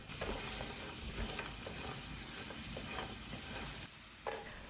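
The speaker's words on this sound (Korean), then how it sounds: "오일 둘러주고 고구마를 볶아서 익혀줍니다." Sweet potato being stir-fried in oil in a pan gives a steady, close sizzle with light scraping strokes as it is turned, and no talking.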